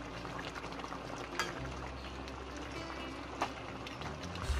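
Padma hilsa fish curry with potato and brinjal simmering in a pot, a steady low bubbling and soft hiss that runs on alone with a couple of faint clicks.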